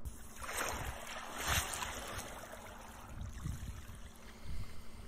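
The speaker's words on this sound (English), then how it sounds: "Waves submerging ice." Waves wash over and submerge ice in a few soft, splashing surges that rise and fall over a quiet watery hiss, with no talking.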